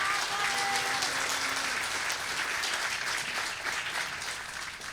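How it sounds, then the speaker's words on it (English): Sustained audience applause fills a civic State of the City address, a dense, steady wash of clapping from a large crowd that holds strong throughout and eases slightly toward the end. "Let's give them a big round of applause."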